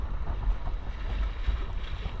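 Strong wind roars steadily against the microphone during bad weather by the sea, with a low rumbling buffet and a faint wash of waves beneath.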